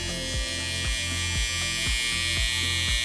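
Electric shaver cutting hair while blending a half fade comb over haircut: a loud, constant buzzing hum with a rhythmic pulsing pattern repeating about every half second, close up and uninterrupted by talk.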